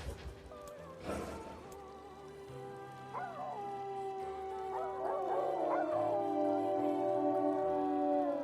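Dogs in the video game NieR Replicant howling, drawn-out wavering wolf-like howls rising and overlapping over game music, with a yip near the start.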